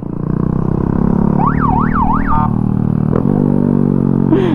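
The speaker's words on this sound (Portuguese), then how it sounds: "Com a sirene." A loud police siren wails in rising and falling sweeps close by, over the constant rumble of a vehicle engine.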